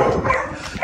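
A dog barks and yips inside an animal shelter building, a quick close burst of sharp barks with whiny tones and kennel echo around it.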